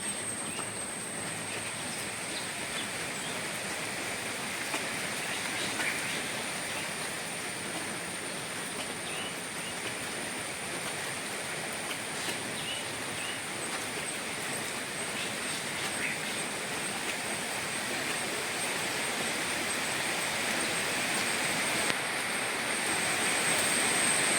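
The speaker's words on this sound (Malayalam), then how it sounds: "നല്ല മഴയാണ് കേട്ടോ" Heavy rain pours down in a constant, even roar that fills the whole stretch without pause or voices, holding steady and swelling slightly toward the end.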